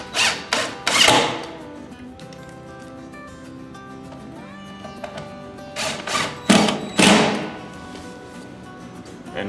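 A power driver sends screws through a mantel top into a mounting cleat, with short bursts of loud whirring and clatter near the start and again later, separated by quieter handling noises.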